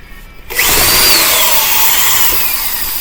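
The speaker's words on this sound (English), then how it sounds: "Let's drill another one in." A power drill spins up loudly and whines steadily as it drives a screw into wood, the pitch sliding as it bites in.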